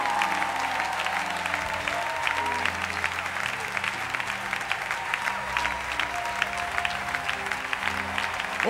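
A church congregation applauds during a wedding-themed sermon. Steady, dense clapping runs the whole time, and a few voices cheer underneath it.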